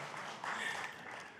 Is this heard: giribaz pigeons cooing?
no